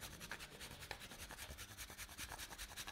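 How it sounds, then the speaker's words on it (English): White chocolate is grated over a bowl of pasta in quick, even back-and-forth rasping strokes, soft and close with no talk. "Gonna grate some white chocolate on it."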